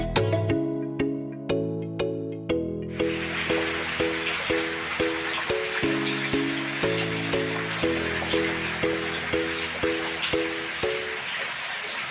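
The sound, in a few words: rain falling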